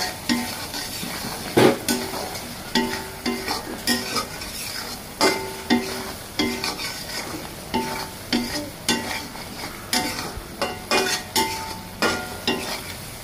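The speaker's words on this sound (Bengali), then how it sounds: "এটাকে ভালোভাবে নাড়াচাড়া করে নেব" A pan of beef brain curry with cumin powder is stirred steadily, giving a long run of rhythmic scraping strokes against the pan, roughly two per second, close and clear over a soft sizzle with no voices.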